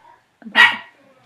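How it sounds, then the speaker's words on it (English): A single sharp dog bark rings out close by against a quiet background, preceded by a faint murmur. "can you hear them barking?"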